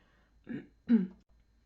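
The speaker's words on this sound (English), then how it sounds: "I just coughed my lungs out there" Two quick, harsh coughs close up, the second louder, with brief silence around them.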